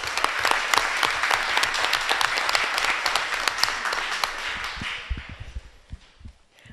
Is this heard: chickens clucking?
no